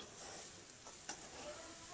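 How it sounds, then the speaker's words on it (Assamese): Amaranth greens frying in a pan with ginger-garlic water for an Assamese saag dish, giving a faint, steady sizzle with light stirring scrapes and a brief clack near the middle. "শুকাই যোৱালৈকে আমি ভাজি থাকিব লাগিব।"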